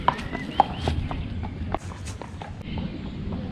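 A dappled horse's hooves clip-clop on a hard surface at an even walking pace in the small German town of Bückeburg, with light rustling and ambient noise behind the steady hoofbeats.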